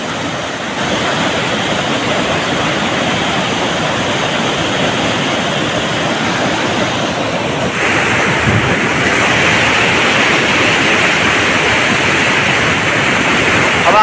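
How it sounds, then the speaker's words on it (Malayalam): A small waterfall on the Nilambathi river in rural Chittur, Palakkad, makes a steady, dense roar of rushing water that fills the whole clip and swells slightly louder partway through, with no voices. "അതിരപ്പള്ളിയിലെ വെള്ളച്ചാട്ടം പോലെ ഒരു ചെറിയൊരു വെള്ളച്ചാട്ടമാണത്."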